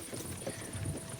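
Horses pulling a cart on a road in Kingdom Come: Deliverance II, a soft, quick clip-clop of hooves, faint and brief with no speech.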